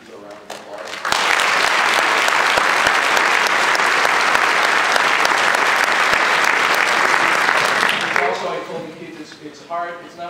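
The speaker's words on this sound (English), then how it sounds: "So if you give those teachers a round of applause." An audience at an all-county chorus festival applauds the chorus teachers, starting with a few claps before swelling into loud, sustained clapping for about seven seconds, then tapering as a voice begins speaking.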